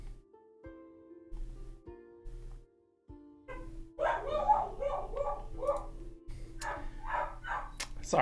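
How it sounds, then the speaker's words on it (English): Dog barks break out partway through, a run of sharp, fairly loud barks and yelps over a steady low hum, with quieter tonal room sound before they start. "My dog's being upset about something."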